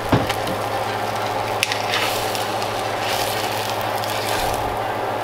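A spatula scrapes under a grilled cheese sandwich to lift it off a hot pan, making close, crackly scraping and crunching noises over a soft ongoing sizzle, with a few sharper clicks and no talking.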